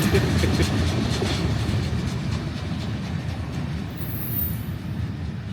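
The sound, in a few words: Amtrak passenger train passing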